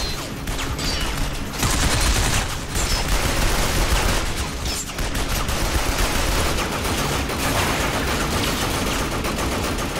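Sustained heavy automatic gunfire in the video game Binary Domain, dense overlapping bursts rattling continuously and loudly throughout a firefight with no clear pauses.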